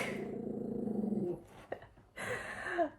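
Dog growling indoors, a low rumbling growl for over a second, then a short whine-like sound before the clip ends.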